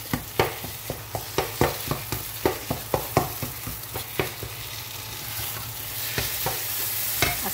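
Bitter gourd seeds fry in oil under a constant low sizzle, while a spatula scrapes the pan in a steady rhythm of roughly two strokes a second that slows toward the end, close and unaccompanied by speech.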